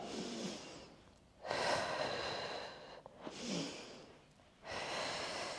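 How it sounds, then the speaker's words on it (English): Close, audible breathing during a single-leg glute bridge exercise: three long, airy breaths in and out, each swelling and fading, with short quiet gaps between them. "we inhale down and exhale"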